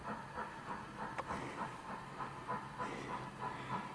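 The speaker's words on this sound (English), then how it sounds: "see the train is still moving" Model train, apparently a Black 5 locomotive, running steadily around a layout track, with a faint, even rolling hiss and soft regularly spaced clicks as it passes over rail joints.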